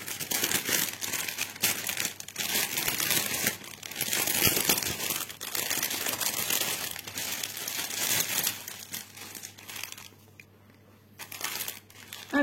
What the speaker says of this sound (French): Alors, je vais ouvrir la pochette.